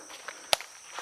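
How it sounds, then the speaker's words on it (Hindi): A single sharp snap of a twig underfoot in a jungle at night, close and crisp, with faint rustling steps around it and a thin background hiss. "लकड़ियों के टूटने की आवाज़।"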